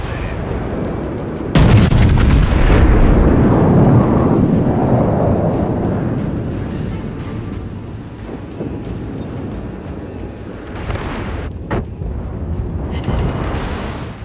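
Artillery fires in a video game: a heavy boom bursts out early, then long rumbling rolls and scattered distant thuds follow, loud and reverberant, with no speech.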